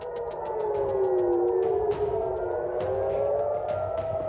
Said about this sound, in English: Iranian missiles were intercepted over Tel Aviv, triggering sirens across the city.